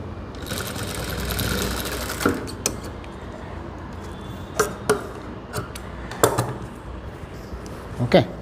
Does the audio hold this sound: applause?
no